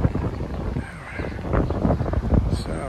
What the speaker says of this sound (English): So, we're getting some wind.